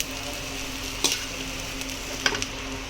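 Spices and red chilli sizzle in hot oil for a snack mix, a steady hiss with two brief spoon-against-pan scrapes partway through.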